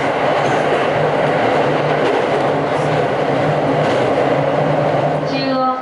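A commuter rapid train to Shin-Kiba on the Rinkai Line rumbles steadily along the rails in Tokyo with a continuous rolling roar, close and loud, ending with a rising high squeal near the end.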